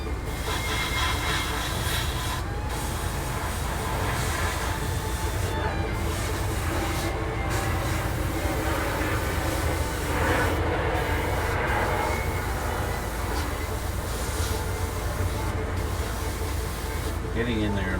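Airbrush spraying paint onto the running gear of a 1/35 Tamiya Sherman M4A3E8 tank model, a continuous close hiss broken by a few short pauses, with talk over it.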